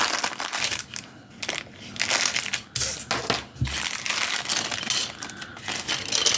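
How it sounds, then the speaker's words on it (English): Plastic bags holding parts for a 1/35 scale AFV model kit of the M59 Long Tom 155mm cannon are torn open, giving close, loud crinkling and crackling bursts in an irregular rhythm. "So let's get to opening some of these packs."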